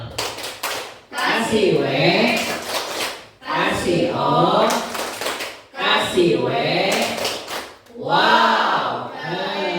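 An elementary school class in Bandung claps a rhythmic pattern in short sharp bursts, alternating with the group chanting aloud between rounds of clapping.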